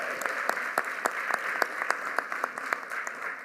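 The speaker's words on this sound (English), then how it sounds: "let us give her a round of applause" Audience applause fills a school district's State of Schools event hall, with a steady mass of clapping and sharper individual claps standing out throughout.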